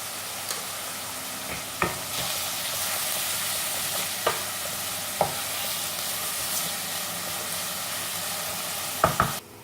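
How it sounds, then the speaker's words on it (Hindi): Onions and green chilies sautéing in a pan for a Sindhi-style fish curry, a steady broadband sizzle with a few sharp stirring clinks scattered through it, close and continuous, with no voices. "तो अपने ऑनियन को हम हल्का सा भून लेते हैं। थोड़े से ग्रीन चिली ऐड कर देते हैं इसमें।"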